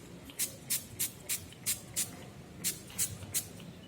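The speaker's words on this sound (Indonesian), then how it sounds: "Pastikan dia benar-benar tersemprot dengan sempurna." A hand sanitizer sprayer fires about ten short, crisp hissing bursts close by at a fairly even pace, with brief quiet gaps between the spritzes.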